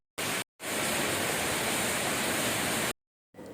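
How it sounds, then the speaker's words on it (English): Heavy rain pouring down steadily, a dense, loud broadband wash with no voices, broken by a few short gaps where it cuts out abruptly. "No, it's pouring here."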